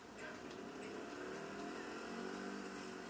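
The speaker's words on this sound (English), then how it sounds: "All right, start my car up." A car engine hums at a steady, even pitch and stays loud and continuous throughout, with no clear start or sharp rev change, and no talking.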